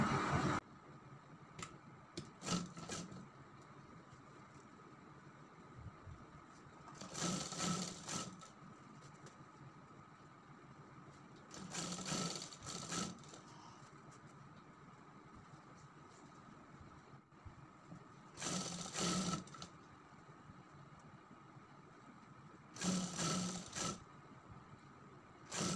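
A sewing machine stitching piping along a folded sleeve edge runs in short bursts separated by quiet pauses, faint and close, with small mechanical ticks between runs.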